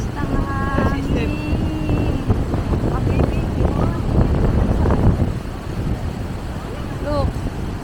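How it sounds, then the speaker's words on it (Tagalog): Gusty wind buffets the microphone in loud bursts on a sandy Boracay beach while people talk over it. "Ang lakas ng hangin."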